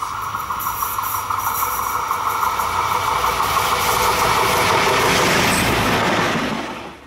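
A nostalgic RuhrtalBahn train runs quickly along the line toward Hagen-Vorhalle, passing the freight yard, with a loud, steady rumble and rushing wheel noise that swells slightly and then fades at the end.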